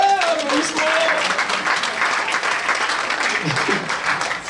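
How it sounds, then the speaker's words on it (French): Dense clapping fills the space steadily from start to finish, with a person's voice briefly speaking over it. "applaudissements"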